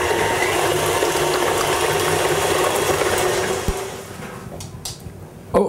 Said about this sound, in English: Now we'll take and mix this up thoroughly for about 2 or 3 minutes until this is very light and fluffy.